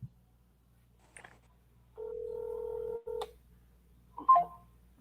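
A telephone keypad beeps as a number is dialed, followed by a steady held tone and a couple more beeps, close and clear in an otherwise quiet room with no talking.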